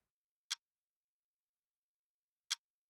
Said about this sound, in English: So this one's almost like a clock ticking,